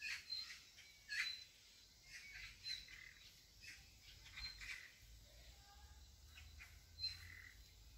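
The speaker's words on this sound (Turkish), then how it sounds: "Kuşlar ötüşüyor." Outdoors at a breakfast spot in Turkey, birds give repeated squawks and chirps, some near and some farther off, in short bursts over a faint low background hum.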